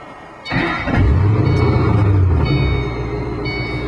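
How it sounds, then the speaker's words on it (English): A GT car idles in first gear with the clutch held in, its engine rumbling in a low, steady drone that starts abruptly and holds fairly loud throughout, with no talk. "Listen to the engine."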